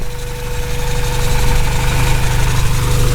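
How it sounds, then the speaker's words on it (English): A 1989 Honda CR-X SiR EF8 engine idles steadily at close range, a low rhythmic rumble with faint mechanical ticking throughout. "running just idling, it seems to idle fine"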